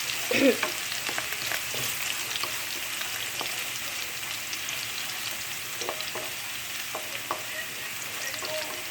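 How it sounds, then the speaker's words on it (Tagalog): Chicken arroz caldo, a rice porridge, being stirred in a pot, soft scraping strokes over a steady low sizzle, close and moderate, with occasional light knocks. "We need to mix it so that it won't burn and it's evenly cooked."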